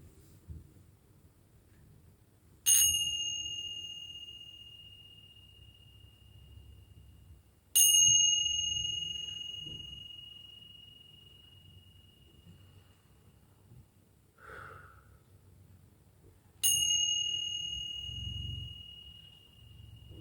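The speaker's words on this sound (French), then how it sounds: "Si vous avez un bol tibétain, vous pouvez le faire sonner." A Tibetan singing bowl struck three times at spaced intervals, each a bright clear ring that slowly fades over several seconds in a quiet room, with a faint small knock between the second and third strikes.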